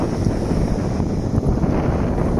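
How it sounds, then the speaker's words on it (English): Strong wind buffeting the microphone on a beach on the UK south coast, a loud continuous roaring rumble with no pauses. "it's very windy"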